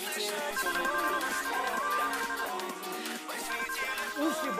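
Several mobile phones ring together in a popcorn experiment, overlapping electronic melodic ringtones playing loud and continuous at close range, with no talking.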